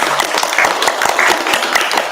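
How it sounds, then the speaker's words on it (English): Audience applauding a departing spiritual teacher at a mantra meditation workshop, dense steady clapping from a crowd filling the whole stretch at even loudness. "Let's give again a big round of applause to"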